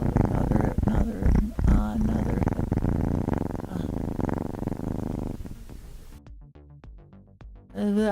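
A cat purrs steadily while being petted on the head, a low continuous rumble filling most of the stretch, with a person talking over it and a brief quiet near the end.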